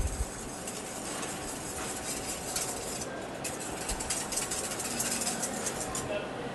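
Cider vinegar dressing being mixed for an arugula salad, soft steady whisking and stirring scrapes in a bowl, fairly quiet, with a voice talking faintly at times.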